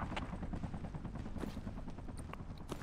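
Distant machine gun fire in the military shooter game Project Reality, heard during a downtown raid as a faint, rapid burst of cracks over a low ambient rumble, with no talk.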